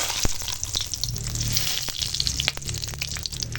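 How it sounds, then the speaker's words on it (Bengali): Bay leaf, cardamom, cloves and cinnamon hit hot oil with a close, crackling sizzle, sharp pops and spits breaking over a continuous frying hiss. "এখন ফোড়ন দেবো এখানে আছে তেজপাতা আর দেখো এখানে আছে গোটা গরম মশলা লং এলাচ আর দারচিনি তো ফোড়নটা দিয়ে দিলাম"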